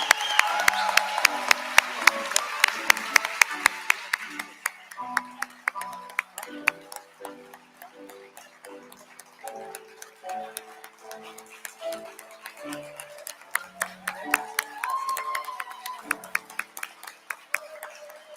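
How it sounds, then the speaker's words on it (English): Audience claps at an international graduates celebration at a university, distinct individual claps ringing out over soft piano-like musical tones, louder at the start, then thinning to scattered claps and swelling again near the end. "I think we can applaud now."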